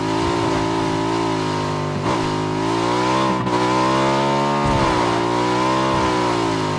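A PUBG motorcycle engine hums loud and continuous, with two brief dips in pitch as the rider shifts speed, heard alone without talk.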